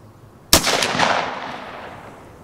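A single close, loud shotgun blast of 3.5-inch Magnum Remington factory 18-pellet double-aught buckshot fired through a Rectifire choke tube, a sharp crack followed by a rolling echo that decays over about two seconds.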